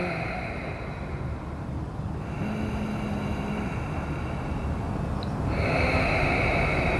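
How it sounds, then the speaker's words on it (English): Slow, audible yoga Ujjayi breathing, with long rushing inhales and exhales flowing one after another in a close, steady rhythm over a low hum. "So I want to hear the breath. Let's hear your breath."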